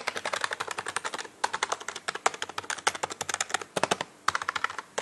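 Fast typing on a QSENN DT-35 non-mechanical gaming keyboard, with dense close clicks in quick bursts and a few short pauses.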